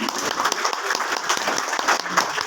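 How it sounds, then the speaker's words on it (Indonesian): Audience applause in a presentation room, steady dense clapping from a group filling the space at moderate loudness with no pauses. "Tepuk tangan dulu dong untuk teman-teman."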